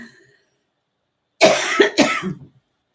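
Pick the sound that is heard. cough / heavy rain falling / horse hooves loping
cough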